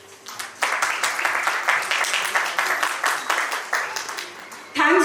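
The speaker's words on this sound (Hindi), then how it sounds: "उनका स्वागत करते हैं जोरदार तालियों से" An audience at a women's leadership award ceremony bursts into loud, sustained applause to welcome the women honorees, a dense wash of clapping lasting several seconds before a voice cuts in at the end.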